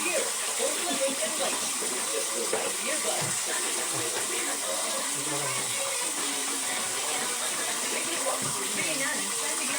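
Water runs from a tap while dishes are washed, a steady, fairly loud hissing gush that continues unbroken for about ten seconds, with a voice talking faintly underneath.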